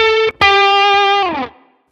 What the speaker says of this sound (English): which gives us a really percussive and loud sound like this,